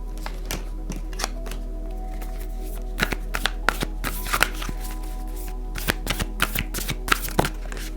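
Tarot cards shuffled by hand in an irregular run of crisp, close flicks and riffles, some sharper slaps bunching near the end, over a steady low electrical hum with no talking.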